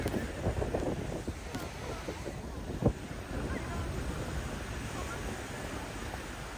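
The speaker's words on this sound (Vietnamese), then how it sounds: "sóng rất là lớn luôn." Wind-driven ocean surf rolls onto a beach in Japan, with sailboats and surfboards offshore on a sunny, very windy day; a steady broadband wash of waves and wind buffeting the microphone, with one brief sharp knock partway through.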